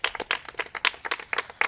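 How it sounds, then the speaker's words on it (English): A small group claps rapidly and unevenly for about two seconds at the close of a competition-show finale, each sharp hand strike standing out, fairly close. "Clap it up for yourself."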